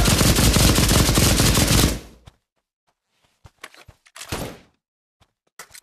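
In a WWII video game, a rapid machine-gun burst hammers loudly for about two seconds and then cuts off, followed by scattered isolated shots and thuds with gaps of near silence.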